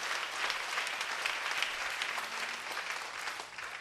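A church congregation applauds together, a steady dense wash of clapping held at an even level throughout, with no talk over it.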